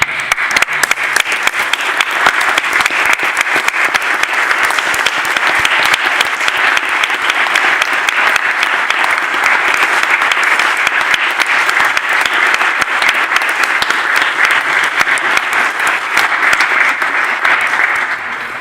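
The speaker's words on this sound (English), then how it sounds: "Senator, I would ask to stand and give them a round of applause" Sustained, loud applause from senators standing in a state Senate chamber, dense steady clapping that holds evenly for nearly twenty seconds before easing off at the end.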